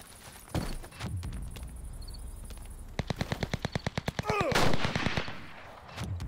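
Rifle fire in a video game, single sharp shots early on, then a rapid rhythmic burst of about a dozen close shots, followed by a louder rushing blast and scattered noise.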